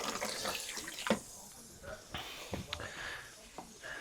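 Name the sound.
water discharging from a XERO Pure Plus water purification system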